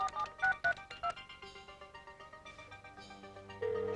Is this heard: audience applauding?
no